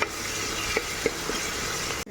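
Masala paste frying in hot oil in a pan, a soft continuous sizzle broken by a few light stirring clacks and taps, close and fairly quiet, ending in a brief cutoff.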